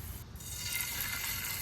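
Fish and mushrooms sizzle in a frying pan with pre-made fried rice, a steady hissing crackle at moderate volume with no voices.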